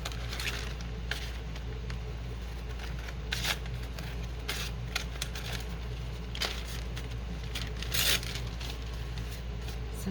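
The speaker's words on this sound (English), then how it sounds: "Oh, I'm cutting unevenly." Scissors cut through paper at a crafting table with a series of small, crisp snips and rustles over a steady low background hum.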